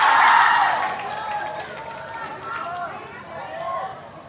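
Applause and cheering from a women's organisation congress audience, loudest at the start and then settling into a steady, roomy patter of clapping with crowd murmur underneath.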